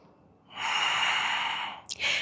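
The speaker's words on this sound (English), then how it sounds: "Taking a few breaths here." A deep, close breath drawn during a warrior yoga flow, a sustained airy rush lasting over a second, then a brief catch and the start of another breath.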